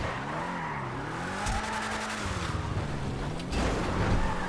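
Vigilante supercar in GTA 5 Online, engine droning steadily with tires squealing through a long curving skid, the tone sliding up and down across several seconds.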